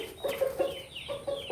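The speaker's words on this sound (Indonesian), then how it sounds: "ayam masih agresif ya, masih mau makan, masih sehat, tidak terlalu parah" A chicken sick with a cold-weather snoring illness gives several short, close clucking calls in quick succession over a quiet background, with no talk.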